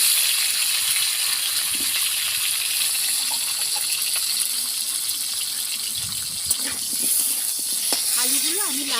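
Potatoes frying in a pan give a steady, bright hiss and crackle that runs throughout, with faint talking underneath.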